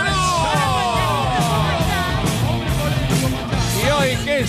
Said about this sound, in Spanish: Fuerte el aplauso para el señor Aníbal Manzano